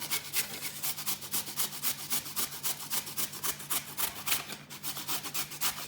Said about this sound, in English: First of all, we'll start by grating the carrot.